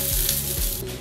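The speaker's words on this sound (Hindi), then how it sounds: "अब ये तड़का हम चटनी पर डाल देते हैं।" Hot tempering of chillies and curry leaves poured over coconut chutney, giving a steady close sizzle with faint crackles that runs the full second.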